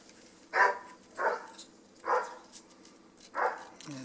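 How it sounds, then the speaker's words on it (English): A dog barks four times in loose, separated yaps at moderate distance, each bark short and sharp against a quiet background. "There's the dog in disgrace again."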